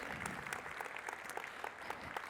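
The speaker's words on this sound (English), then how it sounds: "Give them a big round of applause." An audience at the PyCon US 2026 conference applauds its sponsors, a steady, fairly distant roll of many hands clapping for a couple of seconds.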